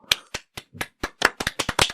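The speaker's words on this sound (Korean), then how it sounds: "박수" A quick burst of about a dozen crisp hand claps with an uneven, slightly hurried rhythm, close and clear. No voices are heard during it. It comes from a Korean podcast studio.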